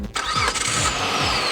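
A 2006 Mitsubishi Eclipse GT with a 3.8-litre V6 starts up: a short starter crank, then the engine catches and settles into a loud, close, steady idle with a low rumble.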